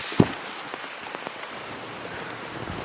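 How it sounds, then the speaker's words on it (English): Rain falls outside with a soft, constant patter on surfaces, marked by a sharp drop or tap near the start and a few fainter ticks afterward. "Oh no, it's raining."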